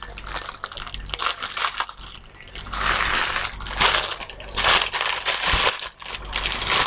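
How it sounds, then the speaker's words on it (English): Crackling, crumpling plastic rustles in bursts over several seconds, close and fairly loud, with uneven handling noises and no speech. "again, crinkly bag"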